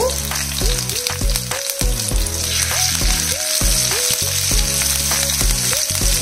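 Curry leaves and half an onion hit hot oil with a loud, continuous sizzle and spattering crackle, alongside repeated clinks and scrapes of stirring, with no voices.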